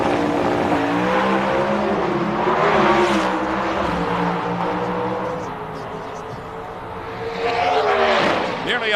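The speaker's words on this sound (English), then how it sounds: "The engine's starting to come up against the rev limiters" A drag racing car engine at the 1997 NHRA Fram Nationals revs hard against its rev limiters, a loud buzzing, stuttering drone that sags briefly before surging again, with an announcer talking over it.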